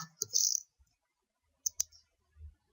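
A computer mouse clicks while confirming a setting in OrCAD circuit software, producing a few crisp, close clicks spread across a quiet stretch, with a faint soft bump near the end.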